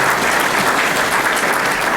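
An audience applauds steadily at a transit talk given by Metra's executive director, a dense, loud wash of many hands clapping throughout without pause.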